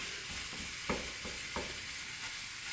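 Sausage sizzles steadily in a hot pan while a utensil breaks it up, adding a few soft scraping strokes over the constant bright frying hiss.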